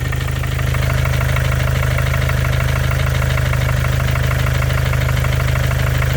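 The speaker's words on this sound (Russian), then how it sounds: "Сам мотор шепчет, но стучит." A Mercedes OM651 diesel engine idles with a steady, loud, close rhythmic knock running throughout.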